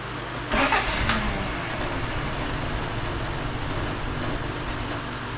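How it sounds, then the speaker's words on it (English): A 1970s car with its stock exhaust cranks and fires up, a sharp burst as it catches, then settles into a loud, steady idle rumble. "for the first time I'm gonna see what this car sounds like, what it did back in the 70s with the stock exhaust"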